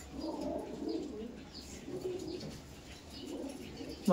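Several pigeons coo softly in low, rolling calls, overlapping indoors in a pigeon loft, with a sharp brief knock at the very end.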